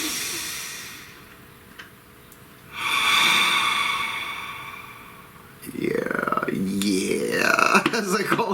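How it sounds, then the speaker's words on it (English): A slow, deep breath drawn in and let out during a guided relaxation, a long airy inhale followed by a softer exhale, close and fairly loud, with a few faint clicks and no talking. "Please take a nice deep breath."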